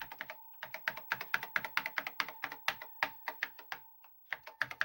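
Keys clacking on a Tatung Einstein computer keyboard, a quick, uneven run of crisp close taps with one short pause before the typing resumes.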